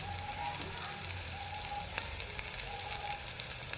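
Drumstick flower fritters fry in oil with a soft, steady sizzle and faint scattered pops, quiet and continuous.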